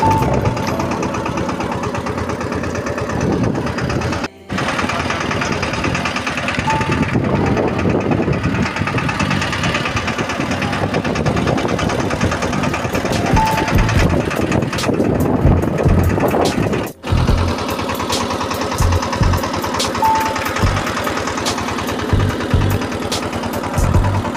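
A small tractor engine runs during groundnut sowing in a field, a loud, close, steady knocking chug that cuts out briefly twice.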